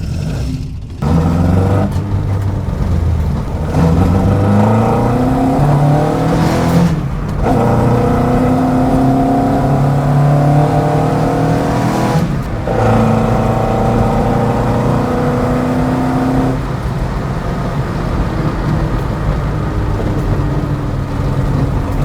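Mk1 Ford Escort engine revving hard while driving along a road, a loud close-up roar rising and falling through several gear changes with brief dips between pulls, continuous for over twenty seconds, no talk.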